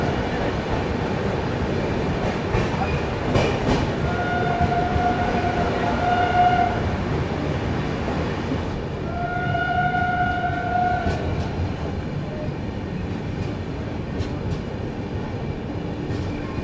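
The Gitanjali Express runs through Sevagram Junction on platform 4 without stopping, a steady loud rumble of wheels and wagons with two long horn blasts rising above it, heard close by.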